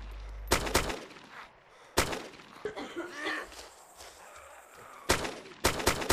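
Gunfire in the DayZ mod video game at an airfield, with sharp loud shots in bursts at the start, a single shot near two seconds and a rapid volley near the end, and quieter movement and faint noises in between.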